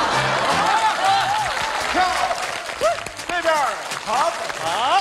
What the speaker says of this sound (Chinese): 咱们大伙一块给他鼓鼓掌